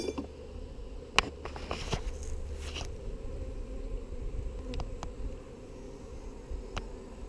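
Honey bees fill an open beehive with a steady, low, dense buzz, close and continuous, broken by a few faint clicks and knocks, with no talking.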